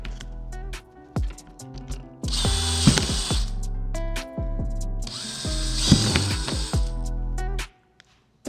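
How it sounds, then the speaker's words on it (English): A power drill whirs in two long bursts, spinning up and grinding through material while drilling holes for wires in an LED sign, with ratcheting clicks between, loud and close with no talking. "First we gotta drill some holes so the wires can go through it"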